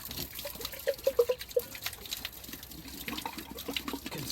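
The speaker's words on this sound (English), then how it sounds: "So once again, the water gets full, but this side it barely comes out." Water flushes through a blocked diesel particulate filter from a Citroen or Peugeot, producing a run of close gurgles and bubbly glugs over a constant trickling, splashing wash.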